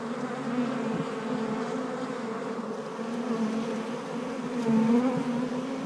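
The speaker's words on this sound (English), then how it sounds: "gently brush the bees off" A dense swarm of honeybees drones around an opened hive during a December honey harvest, giving a steady, close, layered buzz that swells slightly toward the end, with no voices.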